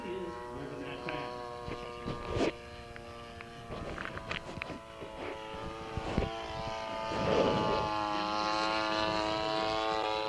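A large radio control model airplane flies overhead at an airport fundraiser, its steady buzzing engine drone rising and falling as it cruises and loops, with a commentator speaking over it throughout.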